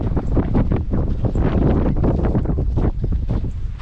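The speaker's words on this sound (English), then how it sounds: "But even if it's windy like this, I can do roll cast because the wind's offshore" Strong offshore wind buffets the microphone on a beach at East Cape, Baja, Mexico, a steady loud rumbling roar that fills the clip without pause.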